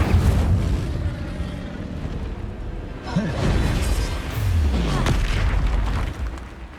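The Incendio fire spell is cast in Hogwarts Legacy with deep, rumbling whooshes and booming bursts of magical fire. It sounds loud and close, with two swelling surges over a dense low roar.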